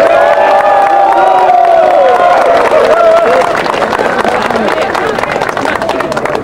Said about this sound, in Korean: 뜨거운 함성과 박수로 맞이해 주시기 바랍니다